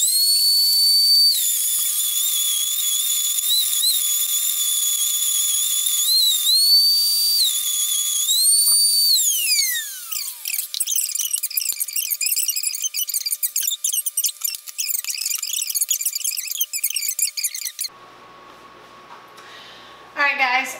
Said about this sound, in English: that I'm going to mill in my whisper mill. I put it on about the medium setting if you have a whisper mill. It is loud.